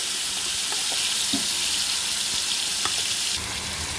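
Mashed pumpkin for halwa frying in ghee in a pan, giving a steady, even hiss with a few faint clicks of stirring, loud and close throughout.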